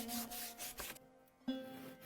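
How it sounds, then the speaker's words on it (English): A wooden axe handle is rubbed with 200-grit sandpaper, giving short rhythmic rasping strokes close by, then a pause and one more stroke. "All rough bumps on the handle, remaining after planing, are removed with sandpaper 200."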